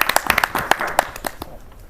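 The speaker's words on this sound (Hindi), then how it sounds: "तालियों से स्वागत कीजिए सौरभ शेखर जी का" A small audience claps to welcome a ghazal poet at an Independence Day poetry gathering. The claps are quick and scattered, close and fairly loud, then thin out and fade away in the final moments.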